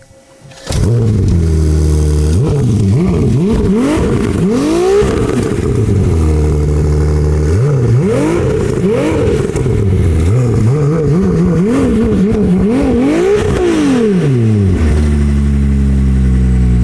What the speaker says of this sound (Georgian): ახლა კი მოусმინოთ ამ 6 ცილინდრიანი ძრავის ჟღერადობას